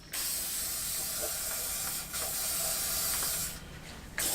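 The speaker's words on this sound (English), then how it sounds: "use another WD-40 can, spray the cap, and pop right off" Steady hiss of WD-40 sprayed from an aerosol can onto a cap in a truck shop, continuous and fairly close for several seconds with a brief lull and a sharper burst near the end.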